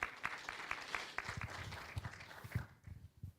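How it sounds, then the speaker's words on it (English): Audience applause at a 2024 health hackathon winner announcement, a crowd clapping steadily with scattered sharp claps before fading out. "Another round of applause for"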